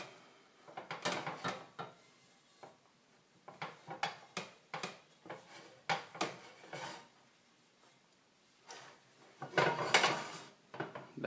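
A cast iron pan being scrubbed clean, including around its handle, making faint, irregular bursts of scraping and rubbing with short gaps between strokes, close by and without talk.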